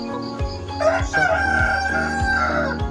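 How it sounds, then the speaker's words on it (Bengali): A rooster crows loudly and close by among a flock of backyard local hens, a single drawn-out call standing alone with faint clucking and farmyard noise around it. "মতা কুকুৰা অকল এটা আছে দেখিছেনে অকল এটা আছে মতা কুকুৰা বাকীখিনি চব মাইকী কুকুৰা"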